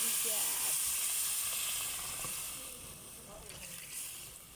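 Onions hit hot oil in a pan while making sinigang sa miso, raising a strong, close hiss of sizzling frying that gradually eases over a few seconds.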